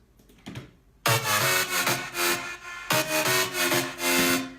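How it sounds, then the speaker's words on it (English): Electronic track in a high-tech minimal style playing with only its mid-bass synth layer after a quiet lead-in, dense and bright with a pulsing rhythm, near and loud, with no talk. "if you listen to it with only the mid bass, it'll sound like this."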